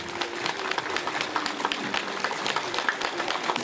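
Audience at a school's first-of-September assembly claps to thank parents, a sustained patter of many hands at moderate volume, fairly even throughout.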